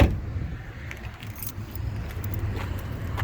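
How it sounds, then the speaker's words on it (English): Keys jangling near the trunk of a 1972 Chevrolet Monte Carlo: repeated light metallic clinks and rattles over a low rumbling background, close, no talk. "Bear with me here. There's a few keys."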